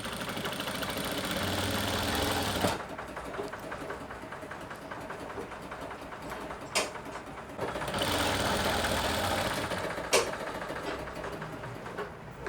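A sewing machine runs in steady bursts while stitching along the edge of a handkerchief, its rapid mechanical whir stopping briefly twice with clicks between runs, fairly faint and without talk.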